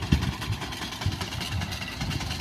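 A slow-moving tractor pulling a grass-cutting machine through fodder, with a steady, moderately loud engine drone and an irregular low rumble running throughout.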